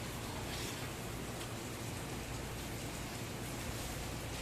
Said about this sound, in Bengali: এই সাইডে দেখো বৃষ্টি বৃষ্টি বৃষ্টি